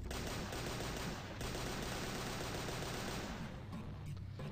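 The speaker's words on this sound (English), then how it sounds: "Yes, I did unload an overly large amount of rounds into his chest." Sustained automatic gunfire in Madness Project Nexus, a loud, rapid, unbroken volley of shots that thins out slightly toward the end.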